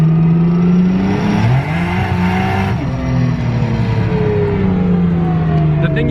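A car rolls into hard acceleration in third gear, engine tone climbing steadily with a brief dip near the middle, loud and close, with possible tire spin under the roar.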